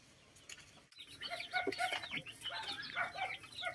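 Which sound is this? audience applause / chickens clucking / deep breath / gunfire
chickens clucking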